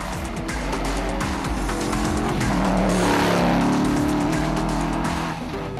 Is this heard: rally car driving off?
yes